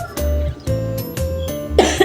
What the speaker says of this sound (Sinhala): එවන පොඩක් කැස්ස වගේ තියෙනවා